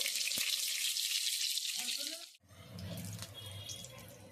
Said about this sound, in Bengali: বেগুনগুলোকে আমি ভেজে নেবো দিয়ে দেবো তেলের মধ্যে